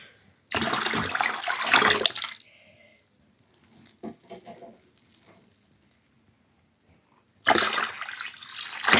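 Water being poured into soft clay mud in two bursts of splashing, gurgling liquid sound at the start and end, with quieter wet dabbling between.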